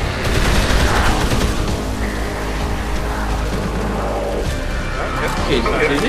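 AK rifle gunfire in the zombie game Dead Island Riptide, dense and continuous automatic bursts filling the whole stretch at close, loud level, with a voice talking underneath.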